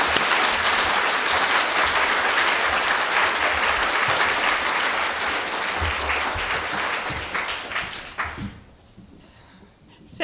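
Sustained applause from a lecture audience greeting the afternoon's speaker, dense and even for about eight seconds before thinning out and fading to a quiet hall.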